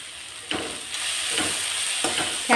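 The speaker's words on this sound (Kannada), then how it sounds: "ಟೊಮೆಟೊ ತುರಿನೂ ಸ್ವಲ್ಪ ಬಾಡಿಸ್ಕೊಳ್ಳಿ ಮಧ್ಯಮ ಉರಿಯಲ್ಲಿ ಅಥವಾ ಮೀಡಿಯಂ ಉರಿಯಲ್ಲಿ ಇಟ್ಕೊಂಡು ಚೆನ್ನಾಗಿ ಬಾಡಿಸ್ಕೊಳ್ಳಿ" Grated carrot, capsicum and tomato sauté over medium heat in a pan, a steady soft sizzle broken by several scraping stirs of a spatula at irregular intervals.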